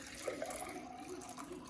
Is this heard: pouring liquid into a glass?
yes